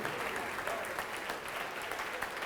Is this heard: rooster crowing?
no